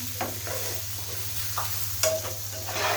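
Chopped tomatoes and spices fry in a pan with a steady sizzle, a low constant hum beneath, and a few soft scrapes of stirring scattered through.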